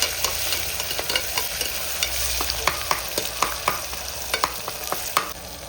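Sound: crushed ginger frying in a pan for rava kichadi

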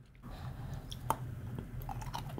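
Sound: chewing almond compressed dry ration biscuit

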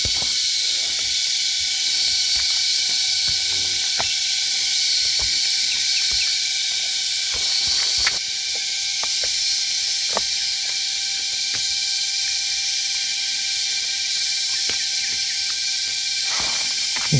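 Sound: insects buzzing in nature

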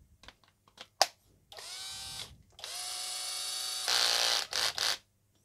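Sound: cordless power drill running

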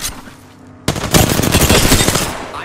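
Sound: gunfire from the video game Apex Legends

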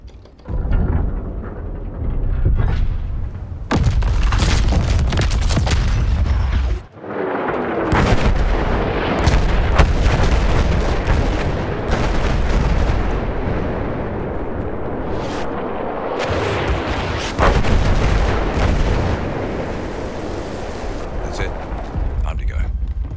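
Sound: dreadnought naval artillery bombardment in video game Battlefield 1

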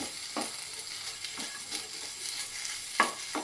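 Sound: sautéing chutney ingredients in pan

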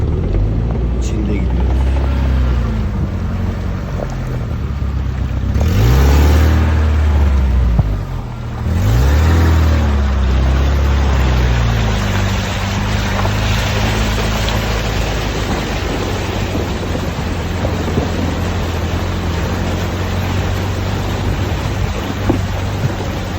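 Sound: off-road vehicle driving through flooding stream water

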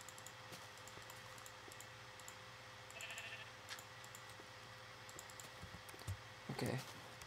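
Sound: sheep bleating in Minecraft video game

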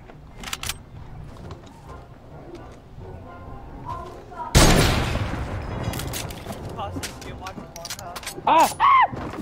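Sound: pistol gunshots

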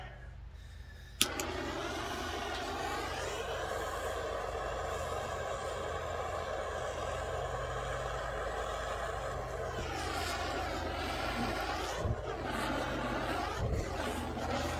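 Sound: stove being lit and running

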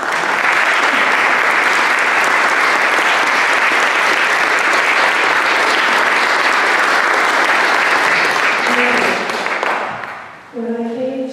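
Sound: audience applause welcoming a speaker at a concert

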